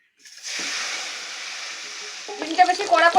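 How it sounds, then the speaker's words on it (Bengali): Eggs frying in oil in a pan for a village family biryani give a steady close sizzle that starts abruptly and holds, then breaks into sharper crackles and spatters near the end. "ডিমগুলো ভেজে নেব।"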